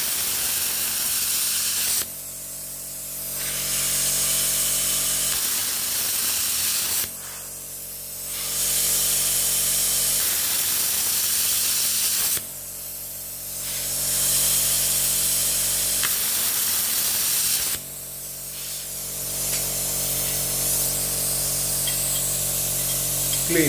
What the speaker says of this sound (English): turn on and the plasma cutter, adjusting the current 25 amp and start cutting this aluminium